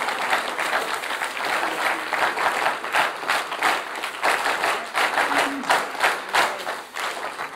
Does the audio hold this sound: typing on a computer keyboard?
no